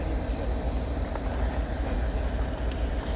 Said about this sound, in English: That's definitely BNSF engine.